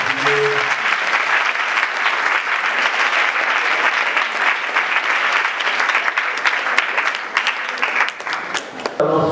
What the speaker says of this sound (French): Je voudrais qu'on leur fasse un tonnerre d'applaudissements